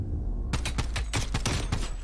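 Rapid bursts of Call of Duty gunfire rattle off in quick succession, sharp and close, after a brief quiet lead-in, during a Call of Duty League 2021 Stage II Major esports match.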